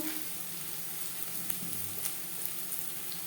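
Onions with turmeric frying in a pan for begun bhaja, a soft steady sizzle running throughout at low level with a few faint clicks and stirring touches, no talk.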